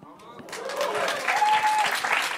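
Applause on a French talk show, rising after about half a second and holding steady as a dense wash of clapping, with chatter and voices mixed in.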